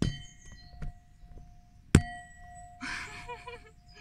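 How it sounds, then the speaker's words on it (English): A bell at the Capuchos Convent in Portugal is struck once, giving a sharp metallic clang with a ringing tail. Quieter knocks come before it and faint chatter follows. "let's try to hit the bell with my Huawei"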